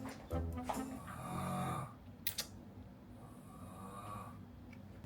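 A person snores in a shared room, the rough breathy snores coming in a couple of loud, drawn-out swells with quieter rustling between them.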